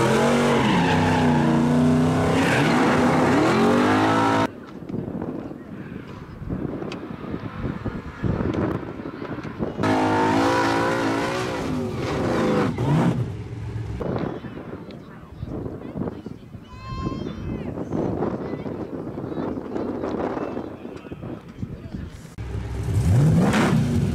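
Street race cars in a daily driver class at Hinton launch hard with rear tires twisting, roaring engines revving loudly with tire squeal over several passes, and voices talking between runs.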